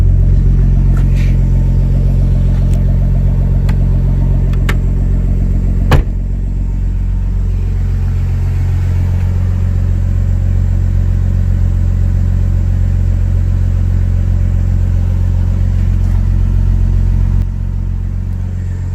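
A 1999 BMW M Coupe with a turbo runs with a loud, deep, steady engine drone, close by, with a few sharp clicks early on and a slight drop in level partway through.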